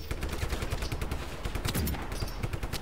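Repeated gunfire crackles in Just Cause 3, a fairly quiet, dense run of rapid shots with a sniper rifle in play, sounding like a continuous exchange of fire.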